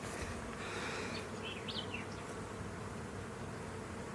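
Honeybee colonies at their hives hum with a dense, steady buzz of many bees flying close by, a soft continuous drone with a few brief individual wingbeat passes.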